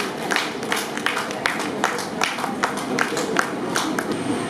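An audience claps at an inauguration ceremony for a building complex and a renovated wellness centre: a light, scattered patter of individual handclaps, moderately close and fairly steady throughout.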